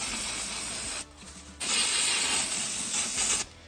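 Uni foam air filter cleaner is sprayed onto a foam air filter in two long hissing bursts, close and loud, with a short pause between them and no talk.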